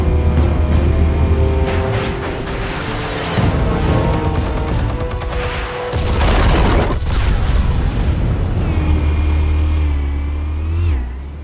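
Explosives detonating in Batman: The Telltale Series: several heavy, booming blasts burst out over a steady low rumble, loud and close, with a sweeping whoosh near the end.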